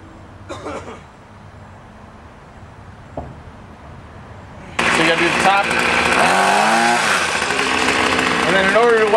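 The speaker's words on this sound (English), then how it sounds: "in order to whack the weeds, you just gotta go like this" A gas string trimmer cutting weeds roars loud and steady from about five seconds on, its whine rising and falling as it swings through the growth, after a quiet start with a brief voice.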